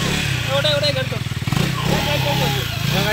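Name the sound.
motorcycle engine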